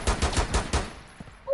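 Pistol shots in Rainbow Six Siege, five rapid close reports in a quick burst, then a brief pause and one more faint shot.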